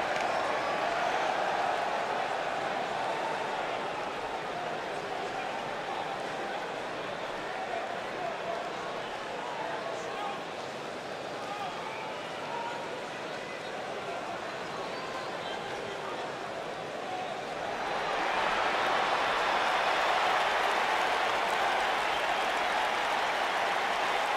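A large arena crowd cheers and applauds during a WWE 2K19 Elimination Chamber match, a dense, continuous roar that dips slightly midway and swells louder again toward the end.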